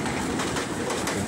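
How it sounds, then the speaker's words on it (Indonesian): A long train rolls past in a horror video game, a loud, dense, steady rumble with a rattling clatter for the whole stretch. "Wow, langsung dapat kereta apinya nih."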